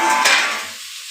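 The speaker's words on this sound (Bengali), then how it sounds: "বিনস ক্যাপসিকাম একসঙ্গে দিয়ে দিলাম।" Beans and capsicum just added to a hot pan, a loud burst of sizzling frying with a stirring scrape that quickly fades to a quieter hiss.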